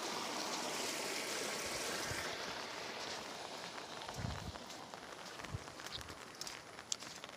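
Flood water in Khadiashol after a night of heavy rain flows past as a steady, broad rushing wash throughout, with a few soft thumps and splashes scattered over it.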